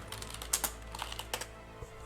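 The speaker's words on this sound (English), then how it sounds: "Just hear the frantic typing." Rapid, frantic clatter of keys on a computer keyboard, close and fairly quiet, with irregular bursts of sharp clicks and no talking.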